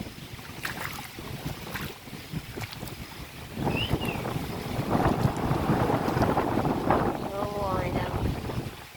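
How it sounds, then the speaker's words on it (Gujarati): Strong wind gusts buffet the microphone during a heavy rainstorm, roaring and rising midway, while people talk briefly over the blustering noise. "એટલો તો પવન હે કે ઉડે જાય એટલો"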